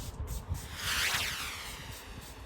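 A short, airy hiss of a spray bottle misting a face, rising and fading over about a second against low background rumble.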